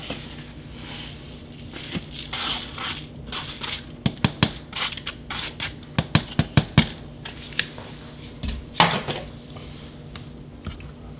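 Milk-soaked breadcrumbs and other meatball ingredients being dumped into a bowl, giving a busy run of close rustling, crinkling and sharp clicking taps at irregular spacing, with no voices.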